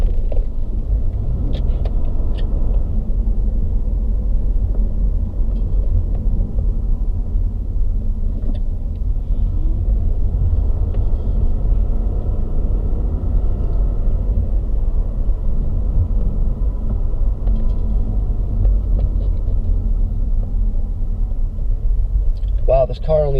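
Steady low road rumble from a car with about 61,000 miles driving over badly broken pavement, loud and continuous throughout, with occasional voices talking over it.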